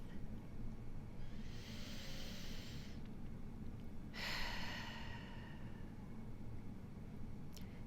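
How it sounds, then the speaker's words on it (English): A slow, deep breath taken close by: a long breathy inhale, a short pause, then a fuller exhale, both soft and airy over a steady low background hum. "let's go ahead and take a deep breath"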